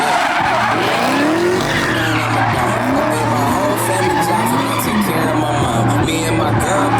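A car doing donuts in a raceway donut pit, with tires skidding and squealing in continuous loops over a loud revving engine. A voice talks excitedly over the noise.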